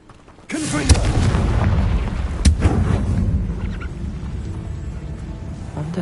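A fiery Confringo blasting spell explodes in Hogwarts Legacy: a sudden loud boom bursts in, then a rumbling roar with a second sharp bang partway through, fading slowly.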